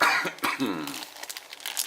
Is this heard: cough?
yes